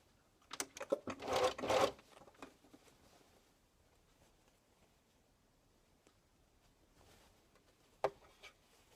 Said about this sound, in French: vous venez piquer à la surjeteuse